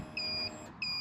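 A Royal Enfield Classic 500 motorcycle in tan and red sounds its turn-signal beeper: two high, thin electronic beeps, fairly faint and evenly spaced, with a soft idle hum beneath.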